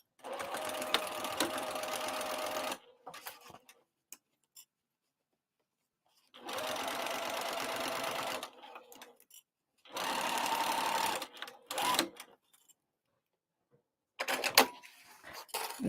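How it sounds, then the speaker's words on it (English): A sewing machine runs basting stitches at stitch length 6, a 1/8-inch seam on a crossbody bag lining. It plays as four separate bursts of steady, close stitching, with short quiet gaps between them. "So let's go to the sewing machine. Stitch length is at 6 for basting."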